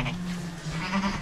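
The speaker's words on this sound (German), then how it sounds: "haben schon die ersten Lämmer gekriegt." Sheep and lambs on a farm bleat steadily and close by, with overlapping wavering calls and no talking.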